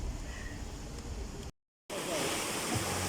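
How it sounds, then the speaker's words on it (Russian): The Svirka river flowing after a heavy downpour, a steady broadband rush of water heard up close, interrupted by a brief gap of silence before the rushing resumes slightly louder. "Речка Свирка."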